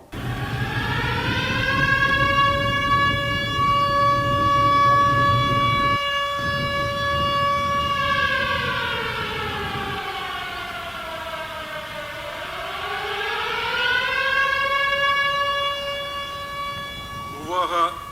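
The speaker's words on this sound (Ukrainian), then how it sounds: "Оголошена повітряна тривога." A civil defense air raid siren in Bukovina wails loud and steady, its pitch sweeping slowly down and back up over about eighteen seconds, with a voice speaking faintly beneath it.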